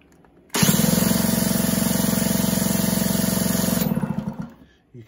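A moped engine is turned over by hand with a 19mm socket, giving a steady, fast mechanical whirring buzz for about three seconds that slows and stutters as it winds down, with no voices.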